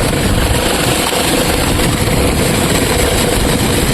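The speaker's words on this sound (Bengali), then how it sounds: "আমাদের মোটর এখন রানিং হয়ে গেছে, এখন মোটরটা সম্পূর্ণ ঠিক আছে।" A repaired electric water pump motor runs with a loud, steady, unbroken droning hum and broadband rush throughout, with no pauses and no voices.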